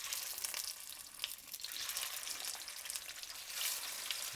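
Shrimp patties frying in smoking hot oil give off a steady, dense crackling sizzle with brighter bursts of spitting, loud and continuous with no talking.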